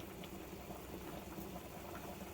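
Steady bubbling and rumbling of water boiling in a pot for fettuccine, continuous and close, with no talking.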